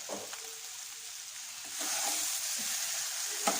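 Jackfruit curry simmering in spices in a pan over medium flame gives a steady, soft sizzle and fry, growing a little louder partway through, with a couple of brief stirring clinks and no talk.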